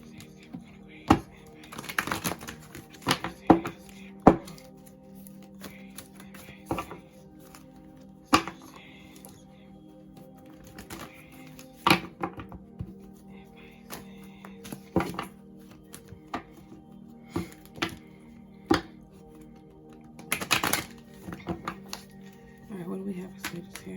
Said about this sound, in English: Let's mix these cards up